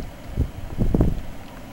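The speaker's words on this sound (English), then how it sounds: "The wind's trying to blow you away." Wind gusting on a rainy night, buffeting close to the microphone in low rumbling surges that swell toward the middle and then ease, with no voices.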